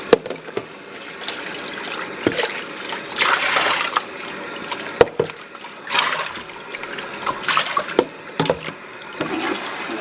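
Water trickles and splashes irregularly from rinsed poke salat greens held up to drain, with intermittent louder pours and drips against a sink-like background.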